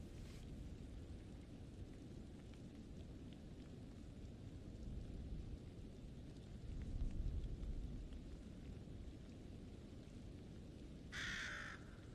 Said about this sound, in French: Il est beau ce petit corbeau là.